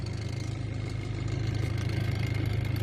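A Mitsubishi E-car with a 4G15 engine idles after a cold start, a steady low rumble with a fast even pulse, close and continuous throughout, with no talking.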